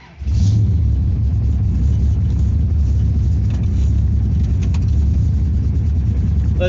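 A 1964 Dodge 330 Max Wedge on the road, its engine a loud, steady low rumble that starts abruptly and holds throughout while driving.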